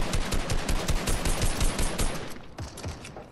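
Rapid automatic gunfire in the video game Fortnite, a dense loud burst of repeated shots for most of the stretch, thinning to a few scattered shots near the end.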